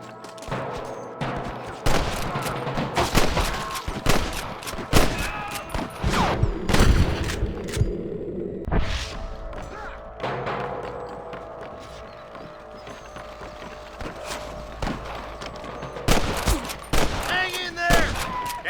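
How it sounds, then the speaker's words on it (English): Sustained gunfire shootout in the Western video game Red Dead Redemption, with dense volleys of shots and rapid bursts, brief lulls, and galloping horse hooves mixed in, loud and close throughout. "Damn fine shooting, boys"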